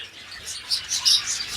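Pet finches kept at home beside their nest chirp in a quick run of bright, high tweets, close and clear with no other sound.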